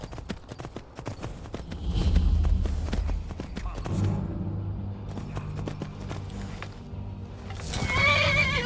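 A horse in the video game Skyrim clip-clops along in quick hoofbeats, then gives loud whinnying neighs, with a person talking over the game sounds.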